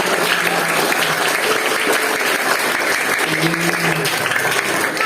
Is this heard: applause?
yes